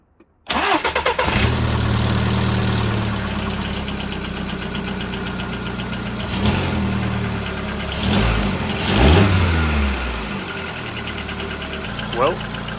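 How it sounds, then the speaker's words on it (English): A VW Golf Mk5 fitted with a cold air intake cranks and fires up, settling into a steady idle, then gives a few throttle blips that swell and fall, recorded close by. "Let's go out and test the engine"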